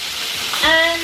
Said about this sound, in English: we're gonna fry everything until it's gonna get this color